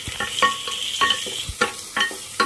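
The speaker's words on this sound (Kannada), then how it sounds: "ಅಲ್ಲಿವರೆಗೂ ಫ್ರೈಡಾಗಿ ಆನಿಯನ್ ಫ್ರೈ ಮಾಡ್ಕೊಬೇಕು" Onions fry in a pan for egg butter masala as a spatula stirs them, with repeated sharp scraping strokes over a light sizzle, up close.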